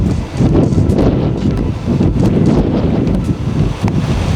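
Strong wind from a squall line storm moving through northern Indiana roars steadily and loudly throughout, buffeting the microphone in gusty, broadband rushes with no voices.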